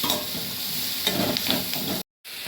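Roughly chopped onions and tomatoes fry in a pan for coriander-root chutney, a dense steady sizzle with light stirring before a sudden brief cutout near the end.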